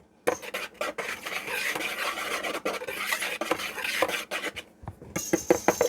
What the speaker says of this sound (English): I'm going to go ahead and whisk all these dry ingredients together so they're distributed in that flour really well.